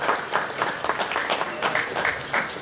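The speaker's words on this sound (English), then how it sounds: "can we please give a round of applause" Audience applause at an annual awards evening dinner held at a bowling club, a steady patter of many hands clapping in a room, moderately loud with no talk over it.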